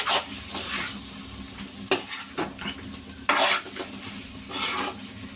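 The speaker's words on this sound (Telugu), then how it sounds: "ఈ మంచూరియా చక్కగా ఇలా కలుపుకోవాలి. సిమ్లో పెట్టుకోవాలి, సిమ్లో పెట్టుకొని కలిపేసుకోవాలి" Veg manchurian is stirred into gravy in a pan over a low flame: a spoon scrapes and swishes in repeated close strokes over a soft sizzle, with a few sharper clacks against the pan.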